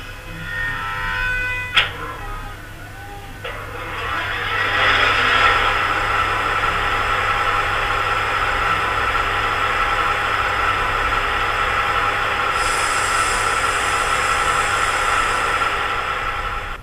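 A model train sound locomotive's engine sound function starts after a brief click, then settles into a steady, loud mechanical idle drone that holds evenly to the end.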